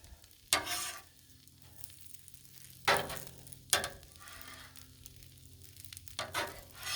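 Egg cooks into pork fried rice on a Blackstone griddle, a soft steady sizzle punctuated by four sharp scraping, tossing bursts of a spatula against the flat top, fairly quiet overall with no talking.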